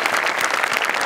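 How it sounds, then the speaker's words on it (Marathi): An audience at a Marathi comedy show bursts into loud, dense clapping, a close wash of many hands heard alone. "जोरदार टाळ्या"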